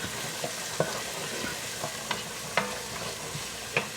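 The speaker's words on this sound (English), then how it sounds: "gonna add in about 3 small cloves of garlic and a half a chopped onion." Garlic cloves and chopped sweet garden onion sauteing in a pan, a steady soft sizzle broken by occasional sharp stirring scrapes and clicks, close and alone with no talk.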